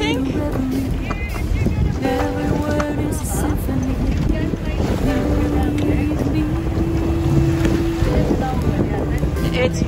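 A sailboat under way on open water off Cyprus, with steady wind and water rush filling the whole stretch while people chat and laugh nearby throughout.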